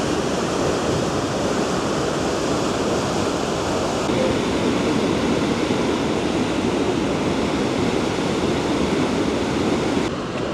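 Continuous roar of rushing water at the Petrohué waterfalls in Chile, a steady broadband wash heard from a viewing platform, loud and unbroken with no voices.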